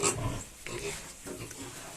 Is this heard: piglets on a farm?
yes